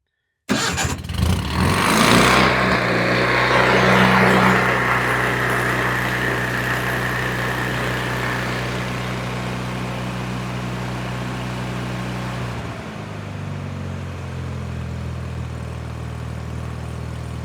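An Onan Performer 16 engine on a Lincoln Ranger 8 welder, just after a carburetor clean, cranks and catches with a loud roar. It runs steadily, then drops to a lower, quieter idle near the end.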